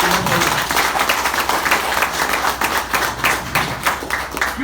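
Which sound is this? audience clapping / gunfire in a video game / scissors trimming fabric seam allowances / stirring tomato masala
audience clapping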